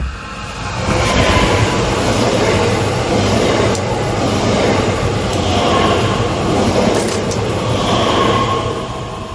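A train rolls past close by, a loud continuous rumble and rattle of wheels lasting several seconds before easing off.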